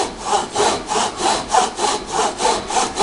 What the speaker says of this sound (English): we're going to cut down through our MDF, checking as we go